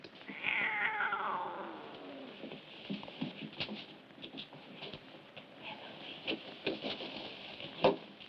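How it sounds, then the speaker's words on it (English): A cat in a bedroom scene of a 1977 TV horror film lets out one drawn-out, wavering meow near the start, followed by faint rustling and soft clicks until a sharper knock at the end. "Hey, cat, get."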